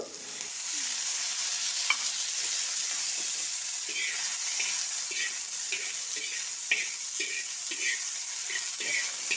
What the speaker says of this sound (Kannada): ಈ ಥರ ದಪ್ಪದಾಗಿ ಕಟ್ ಮಾಡಿರೋ ತಿಪ್ಪಿಕಾಯಿನ ಹಂಚಲ್ಲಿ ಹಾಕಿ ಹುರಿಬೇಕು ಒಲೆ ಮೇಲೆ ಇಟ್ಟು